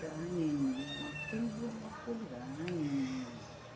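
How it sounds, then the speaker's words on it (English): A cat meows repeatedly while struggling to get out of a cradle, with several drawn-out, wavering cries close by and fairly loud, a voice briefly present. "The cat is trying to escape his cradle."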